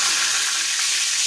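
A bay leaf hitting hot oil as tempering for shol fish kaliya curry gives a loud, close, continuous frying sizzle, an even bright hiss with no voices.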